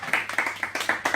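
Scattered handclaps from an audience at a Guinean student forum in France, honoring an absent award winner; a few uneven claps, fairly close, brief and sparse.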